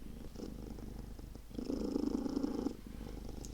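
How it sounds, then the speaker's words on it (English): Close, continuous purring from a 21-year-old cat, a low rhythmic rumble that grows stronger for about a second before settling to a quieter hum. "For a 21-year-old cat, she has such a purr on her."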